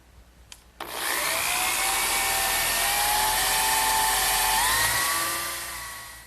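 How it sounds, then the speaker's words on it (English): A power drill whirs up to a steady high whine and bores a 3/8 inch hole into wood for dowels, continuously for several seconds, close by, then winds down; no talking. "I'm going to drill a 3/8 inch diameter, but not quite all the way through"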